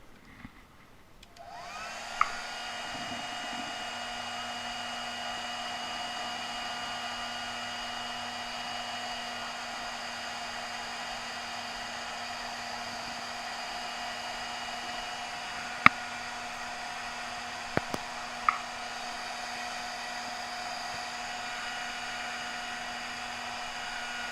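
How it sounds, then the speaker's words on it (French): A hair dryer blows steadily at close range to speed drying on a craft project, with a constant whirring hum, broken only by a few faint clicks. "Un petit coup de sèche-cheveux pour accélérer le séchage"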